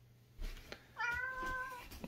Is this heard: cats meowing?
yes